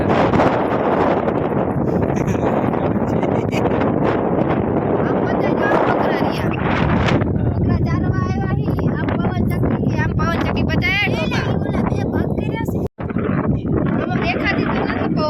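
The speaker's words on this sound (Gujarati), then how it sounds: "પવન" Strong wind buffets the microphone in a loud continuous roar while a person talks underneath.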